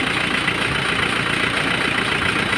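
A diesel engine, the 4JG2 in an Isuzu Bighorn, runs close by at a steady, slightly high idle, with a continuous rough drone and no voices over it.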